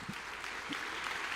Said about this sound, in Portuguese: Vamos colocar em pé e dar uma forte salva de palmas ao Senhor.